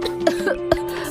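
A woman coughs in a couple of short bursts, close and fairly loud, with a steady background hum underneath and no other voices.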